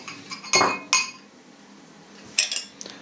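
Beaten egg is stirred into dough in a bowl, with a few sharp clinks and scrapes of a utensil against the bowl separated by quiet gaps.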